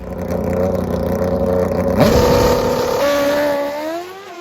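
A 460-engined NHRA drag race car roars loudly and steadily, its engine note shifting abruptly partway through, then easing off toward the end as it winds down after a clean shut-off pass.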